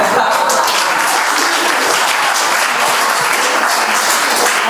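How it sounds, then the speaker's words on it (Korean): Sustained applause fills a church retreat gathering, a dense, steady wash of many hands clapping at close range for the full stretch with no break. "잘하면 박수를 쳐주세요"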